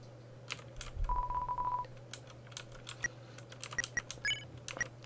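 Phone keypad tones in the game Undertale as a number is dialed: a rapid run of beeps followed by a steady tone, then scattered clicks and chirps over a constant low hum.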